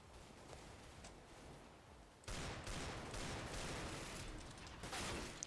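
Rapid bursts of Desert Eagle pistol fire in a video game, loud and dense after a quieter opening stretch, with shots clustering into near-continuous volleys.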